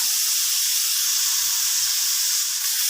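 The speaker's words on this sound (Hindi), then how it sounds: "गोभी को भी इसी तरह फ्राई करना है, थोड़ा सा सॉल्ट, इसी तरह थोड़ा फ्राई करके फिर दिखाती हूँ।" Cauliflower frying in a pan with a little salt and no extra oil, giving a steady, loud hiss and sizzle that runs unbroken and close, with no talk over it.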